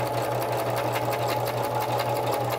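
A sewing machine stitches a patch onto a Christmas card, running at a fast, even, continuous whir with rapid needle ticks close by.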